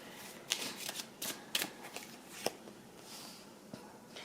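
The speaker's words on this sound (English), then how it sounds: "Let me shuffle one more." Tarot cards being shuffled by hand during a reading, a series of soft papery riffles and snaps in irregular bursts, close and fairly quiet with no talking over them.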